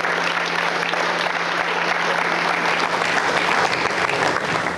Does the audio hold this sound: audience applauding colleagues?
yes